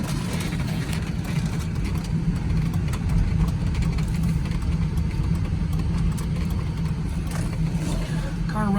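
A 2002 Ford Thunderbird engine runs steadily with a deep, continuous rumble and slight swells in the revs, heard from inside the moving car throughout.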